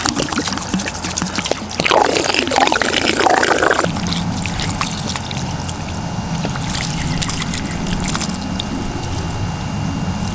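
Water being dumped out of an emptied propane tank, a rushing gush for a couple of seconds that tapers into a softer, uneven trickle and dribble.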